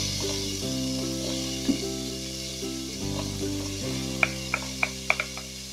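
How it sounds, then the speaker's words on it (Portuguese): Chopped onion and garlic fry in hot oil in a pan, giving a steady sizzle with a few sharp pops and crackles toward the end, under a faint background hum. "Vamos deixar assim dourar a cebola um pouco."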